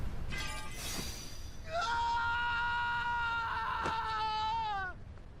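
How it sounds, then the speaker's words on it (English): Sora, the hero of the Kingdom Hearts video game, lets out an anguished, drawn-out scream that rises sharply and holds loud for several seconds before cutting off, with no talk over it. "Sora's scream here is just painful to hear."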